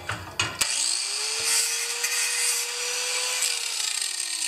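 A hand file rasps steadily across a welded snowblower auger on a John Deere TRS 24, giving a continuous gritty scraping with a rising whine, close and loud, and no talking.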